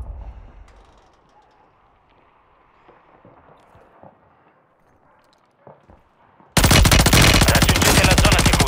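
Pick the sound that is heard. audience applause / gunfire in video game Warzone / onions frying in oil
gunfire in video game Warzone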